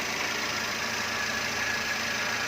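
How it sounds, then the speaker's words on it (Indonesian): A car engine idles at an even, continuous pitch, a steady broadband hum and whir with no revving, heard close and alone throughout. "Selanjutnya kita bisa dengarkan suara mesin."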